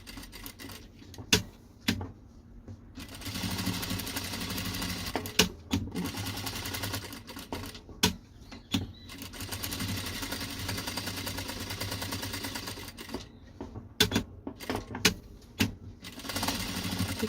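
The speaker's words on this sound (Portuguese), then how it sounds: "Tô passando a costura, gente, bem do ladinho daquela minha costura lá que eu fiz com risco" A sewing machine stitches fabric for a fish-shaped pot holder, running in short, slow bursts separated by pauses and clicks as it works around curves, close and moderately loud.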